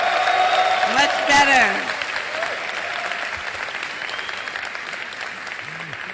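An audience in Lagos applauding, a loud burst of clapping that fades to lighter sustained applause, with a voice speaking briefly over it.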